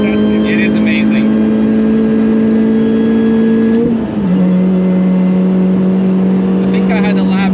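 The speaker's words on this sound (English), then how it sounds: "The supercharger wine is fantastic." A supercharged Mini Cooper S R53 on track at the Nürburgring, its steady high supercharger whine riding over a loud engine drone that dips briefly mid-clip and then holds at a lower pitch, with people talking over it.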